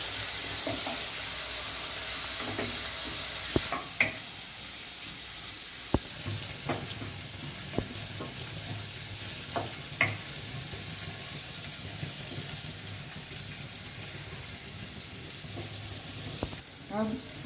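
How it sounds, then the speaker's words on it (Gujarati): Garlic-chili paste, grated ginger and spices frying gently over low heat in a pan, a soft steady sizzle with occasional clinks and stirring taps, and a voice talking faintly over it. "બધો મસાલો આપણે પકાવશું ધીમી તાપે"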